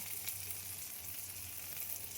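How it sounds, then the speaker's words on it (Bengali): Onion, potato and other vegetables fry in a pan with a continuous, even sizzle and light crackle, close and steady, with no talking. "পেঁয়াজটা, আলুটা, এগুলো সব সবজিগুলো ভাজা হয়ে গেছে"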